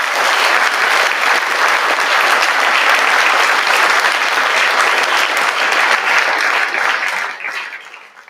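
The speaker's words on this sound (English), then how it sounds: "So let's give them all a round of applause." Sustained applause from a large audience at a school athletic awards ceremony, dense and loud clapping that holds steady before tapering off near the end.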